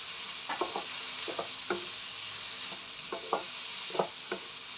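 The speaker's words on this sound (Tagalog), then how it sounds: "Ayan, halo-haloin lang natin mga idol." Pancit canton noodles frying in a pan and being stirred, with a steady sizzle beneath repeated scraping strokes at an irregular rhythm, close and moderately loud, no talking.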